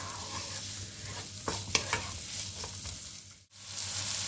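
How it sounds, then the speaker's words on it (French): Onions fry in a pan until golden, giving a steady close sizzle broken by a few scraping stirs of a utensil and a brief dip near the end, with no talk. "Donc je fais revenir mes oignons quelques minutes jusqu'à ce qu'ils soient blondis."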